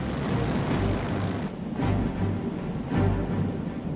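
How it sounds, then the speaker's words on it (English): Propeller aircraft engines drone in a Second World War air raid, a steady loud rumble with a rhythmic throbbing pulse as the planes approach. "Planes heard 3 miles southwest."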